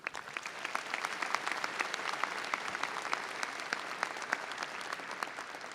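Applause at a university commencement right after the national anthem, a dense, steady patter of many hands clapping from a large crowd, moderately distant and continuing throughout.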